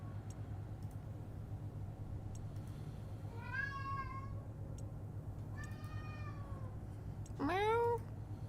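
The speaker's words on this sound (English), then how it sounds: "Now my cat's talking." A house cat meows twice, then gives a louder rising third meow, each call short and clear over a steady low hum from a running computer game.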